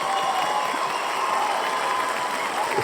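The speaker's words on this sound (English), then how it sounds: "Look, they even cheer for us." A studio audience claps and cheers at the close of a real estate talk show episode, with a steady, dense wash of applause that holds evenly throughout and no talk over it.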